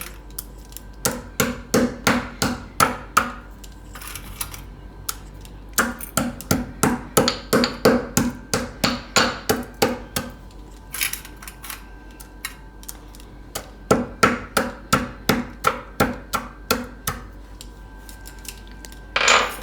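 Sugar crushed by hand with rapid, clacking pounding strokes in several long bursts separated by short pauses, close and steady throughout, without speech.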